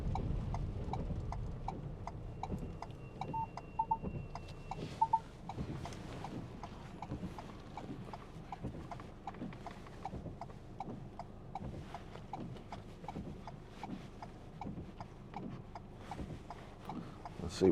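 A loose part on a 2019 Ford Transit Custom 2.0 EcoBlue van rattles and taps in a steady, rapid rhythm, close and continuous over a low road and engine drone, with no talk.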